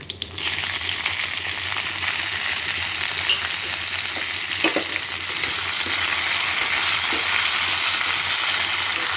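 Elephant apple chutney with curry leaves and coriander frying in a pan gives off a loud, steady sizzle with crackling that holds for the whole stretch, and no voices break in.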